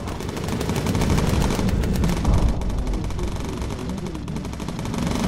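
Bomber turret machine gun in the Bomber Crew game, rattling in a dense continuous stream of rapid shots, loud and close, with heavy rumbling layered beneath.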